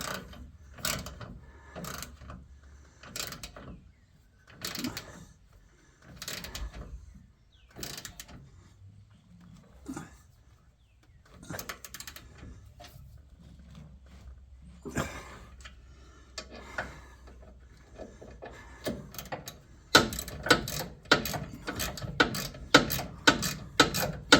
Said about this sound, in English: Another ratchet. Now I'll tighten those two that I left loose for adjustment reasons.